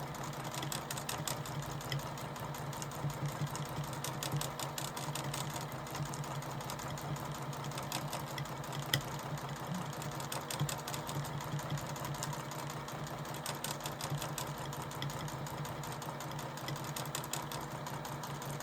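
Sewing machine stitching straight-stitch embroidery inside a van, a steady, fairly quiet mechanical whir with rapid needle ticking that runs on without break and no talking.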